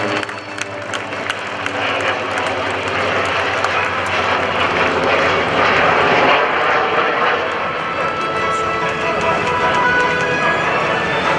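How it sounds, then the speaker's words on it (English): A Navy Tailhook Legacy Flight airshow pass featuring the world's only flyable SB2C Helldiver, a Second World War carrier dive bomber, with a loud, sustained piston-engine and propeller roar swelling overhead while an announcer talks over a public address system. "the one and only flyable SB-2C Helldiver in the world"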